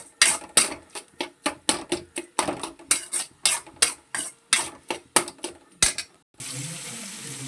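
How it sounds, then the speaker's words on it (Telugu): A dish is mixed in a bowl after salt goes in, with a fast run of sharp, wet scraping strokes repeating in a steady rhythm, loud and close, before a softer, duller stir closes it out. "రుచికి తగినంత ఉప్పు వేసుకొని దీన్ని కలబెట్టుకోవాలి."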